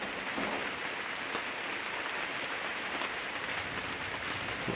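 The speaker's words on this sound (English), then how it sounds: "this rain is a constant soaker" Steady soaking rain falling outdoors on a hillside at dusk during a deer hunt, a constant even hiss of drops with no voices.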